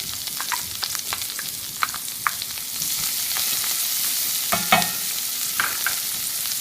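Onions and leeks sauté in a pan with a steady sizzle, broken by scattered clicks and scrapes of stirring.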